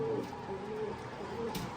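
Soft, low pigeon coos repeat a few times nearby, a gentle throaty murmur over faint background noise.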